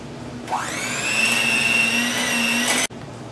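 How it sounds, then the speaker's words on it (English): An electric mixer whirs up to a steady high whine while beating cookie cake batter, running for a couple of seconds before cutting off abruptly. "You can either beat it now or wait till you have all the dry ingredients in, but I'm going to beat mine now."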